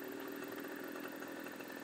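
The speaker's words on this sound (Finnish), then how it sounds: "Sitten äksällä poikki puu. Sinne menee puu poikki." A Stihl chainsaw cuts through a tree in Farming Simulator 15, a steady, dense motor buzz that holds at constant loudness for the whole stretch with no pauses.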